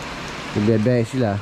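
Steady rain falls on a farm during a typhoon, a continuous broadband wash running throughout while a person speaks over it.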